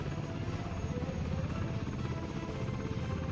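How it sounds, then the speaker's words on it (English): A large passenger helicopter in the Soviet city-builder game Workers And Resources settles onto a heliport, its rotor thumping in a steady rapid pulse over a constant low engine drone, close and even in level with no talk. "That's a pretty big helicopter,"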